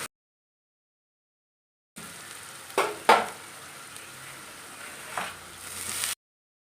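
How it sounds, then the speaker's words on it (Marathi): Safflower greens stir-fried with garlic and chili in a pan give a steady sizzle, interrupted by a few sharp scraping stirs, for about four seconds after a silent start. "आता आपल्याला यामध्ये करडईची भाजी घालायची आहे"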